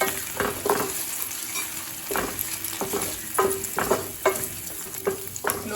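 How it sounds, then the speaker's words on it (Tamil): Small coconut pieces fried slowly in a pan over low heat for moong dal payasam, with soft continuous sizzling broken by irregular spoon stirs and scrapes. "ஸ்லோலே வச்சு நல்லா கலர் மாற வரைக்கும் வறுத்துக்கலாங்க"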